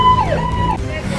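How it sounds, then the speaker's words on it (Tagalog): Ambulance siren wailing close by at a bicycle race in the Philippines, a loud sweeping tone lasting about a second over crowd and road noise. "So ito na yung ambulansya."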